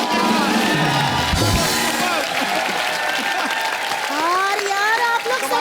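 Studio audience on a comedy show breaks into sustained applause and cheering, a dense crowd roar with whoops, steady and loud throughout, with voices and laughter mixed in.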